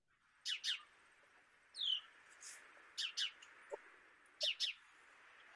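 Sparrows chirp in a quiet morning setting, giving short paired calls with pauses between them, soft and fairly distant against a faint background hiss.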